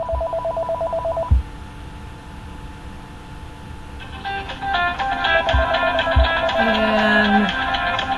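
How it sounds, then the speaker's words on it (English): Office telephone ringing in the background, a fast trilling ring that pulses briefly, pauses, then returns as a denser warbling ringtone with a few soft knocks beneath it. "Apologize for that phone in the background."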